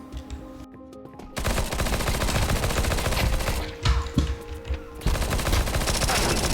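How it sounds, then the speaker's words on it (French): Video game gunfire rattles in dense, rapid automatic bursts, close and loud, with a brief pause and a few punchier shots before the firing resumes. "plus de balles, Kenny. Attends, obligé de reprendre les petits"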